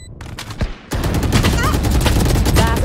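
Gunfire in the shooter game Valorant, a sudden loud burst of rapid shots that continues densely after a brief quieter lead-in.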